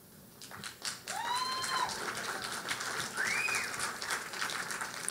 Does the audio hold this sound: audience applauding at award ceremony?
yes